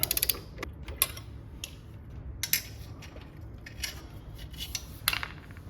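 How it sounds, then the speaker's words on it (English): A torque wrench clicks and ratchets on a motorcycle frame protection bolt of a Daytona 660, with faint, sparse metallic ticks and short bursts of clicking separated by quiet gaps. "I'm using my torque wrench now."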